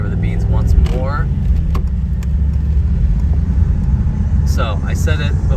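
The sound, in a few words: Mercedes-AMG SL 55 engine and exhaust accelerating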